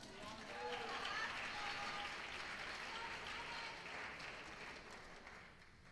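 Sustained applause from a show choir invitational audience, dense and steady for about six seconds before tapering slightly, with cheering mixed in.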